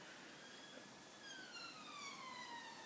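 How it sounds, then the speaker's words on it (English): A wailing siren sweeps up and down in pitch, far off and faint beneath a constant hiss of background noise. "Siren!"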